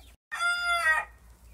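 A young partridge-colored Silkie rooster gives a single loud, strained call of about 0.7 seconds, rising out of near silence and fading into a quiet background.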